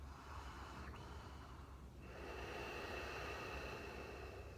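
Ujjayi yoga breathing rasps through a constricted throat in a soft, snoring-like hiss, one long breath giving way to another after a brief catch, close and faint with no talking.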